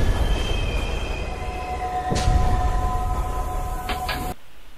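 A train pulling away and passing at night, with a steady rumbling roar, a sustained tonal whine and brief wheel squeals, loud and continuous before cutting off abruptly.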